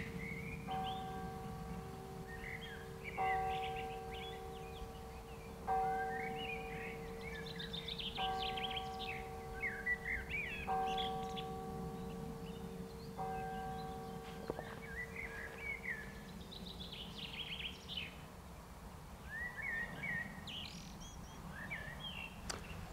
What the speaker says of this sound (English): oh, let's listen to the bells.